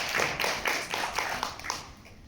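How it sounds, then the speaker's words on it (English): A small audience at a tech panel event claps to welcome a guest, a modest, fairly quiet patter of hands that thins out after a couple of seconds. "So please welcome our special guest with a big round of applause."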